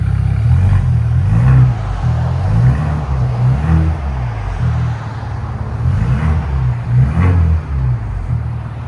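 A 2025 Ford Bronco 2.3L turbo engine with an aftermarket muffler revs repeatedly to about 2,500–3,000 RPM, its deep rumble rising and falling in several surges to higher pitch and dropping back between blips.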